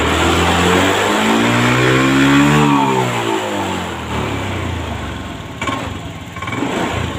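A 2022 Honda Scoopy scooter with a fault, blowing white smoke and burning oil, revs under throttle, the engine note rising to a peak and falling back, then running roughly and unevenly near the end.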